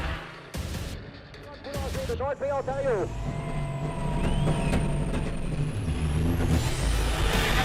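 A big rig race truck revs hard at the start of a road race, its engine roaring loud and close with a brief air-brake hiss and whine, building steadily over several seconds.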